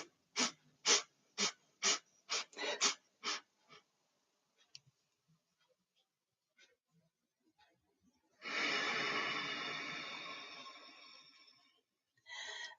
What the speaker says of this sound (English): short, quick breaths as we inhale, and then through your nose, and then sniffing, followed just by a long exhale.